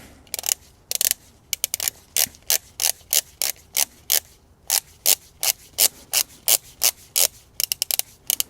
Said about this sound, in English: let's go ahead and grab our torque wrench and set this guy to 25 Newton meters